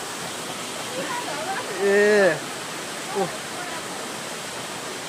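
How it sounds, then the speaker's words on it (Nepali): A steady, close roar from the waterfall of the Pinguwa stream in Terhathum runs through the whole stretch, and a voice calls out briefly partway through. "रहेको पिङ्गुवा खोलाको झरना"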